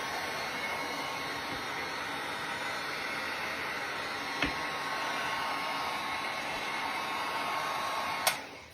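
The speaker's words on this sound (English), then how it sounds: "If you don't have a dryer yet, I would highly suggest to go buy one." A handheld dryer drying paint blows continuously with a steady, loud hiss of air, interrupted only by a couple of brief clicks.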